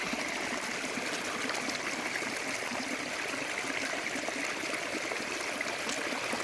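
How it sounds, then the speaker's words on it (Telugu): Water from a faltering borewell pump gushes and splashes in a steady, faint stream, with no voices. "మా బోరు ఆగిపోయింది, వస్తుంది పోతుంది, వస్తుంది పోతుంది"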